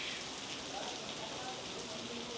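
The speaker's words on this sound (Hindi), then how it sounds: "आप देखें बारिश," Steady rain patters down in a dense, even hiss at a tomb and mosque in Guangzhou, close by and continuous, with no voices.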